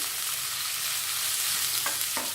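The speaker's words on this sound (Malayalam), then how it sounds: "ഇതെല്ലാം കൂടെ ഇതിനകത്തിട്ട് വെളിച്ചെണ്ണയിൽ ഒന്ന് നമുക്ക് വഴറ്റിയെടുക്കണം" Chopped ginger and green chilli sauté in coconut oil with a steady, close sizzle and a couple of brief stirring scrapes near the end.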